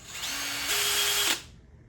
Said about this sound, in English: I have to drill this one out